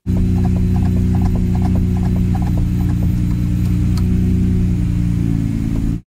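Steady engine drone of a Lamborghini Murcielago with a failing clutch, a rapid rattling, clicking mechanical chatter layered over it, continuous and loud until it cuts off abruptly.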